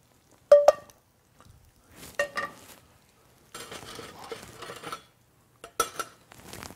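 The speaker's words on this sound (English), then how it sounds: "when you're cooking in like nonstick, I'm using rubber tip tongs" Rubber-tipped tongs handle salmon in a nonstick pan, giving a few sharp clinks and taps, short bursts of sizzling and scraping, then more clatter near the end, close and fairly loud with quiet gaps between.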